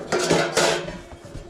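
Stainless steel dishes and utensils are handled in a cluttered storage unit, giving close, loud metallic clatter and clinks in a few quick bursts with no talk.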